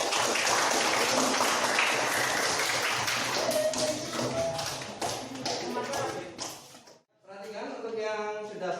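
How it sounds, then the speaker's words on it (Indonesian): Classroom applause for a group of students coming forward to present, a dense patter of many hands and taps from the eighth-grade class, fading into a brief gap before a voice speaks. "Tepuk tangan untuk kelompok 3."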